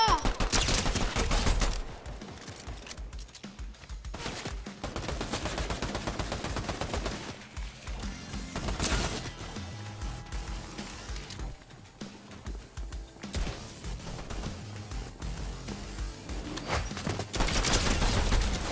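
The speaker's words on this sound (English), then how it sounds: "There's a real person shooting at me!" Gunfire from another player in the Fortnite video game, loud rapid bursts of shots at the start and end with quieter scattered firing between, alone without talk.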